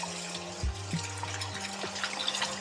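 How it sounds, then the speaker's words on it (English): Stock from a mug poured into a pan of garlic mushrooms, a close, steady liquid pour and trickle with a brief splash partway through, heard alone. "we want to add in, I'd say, half of the mug of stock to start with."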